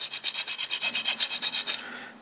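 Hand file rasping an aluminum BMW clutch arm, about fourteen quick, even back-and-forth strokes in a steady rhythm, close and crisp, then the strokes stop.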